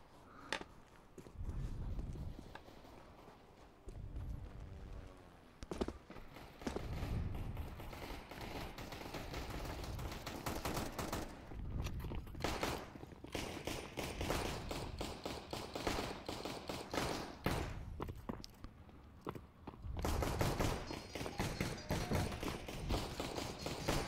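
Gunfire in the video game Counter-Strike comes in dense, near-continuous bursts and rattling volleys, with mechanical clatter and footsteps in a busy, loud mix.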